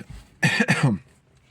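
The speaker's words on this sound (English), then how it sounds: "I get a little cough too." A single close cough, a harsh double burst of breath from one person.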